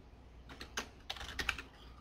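Computer keyboard tapped in a quick burst of light keystrokes as a password is typed, faint and close in a quiet room.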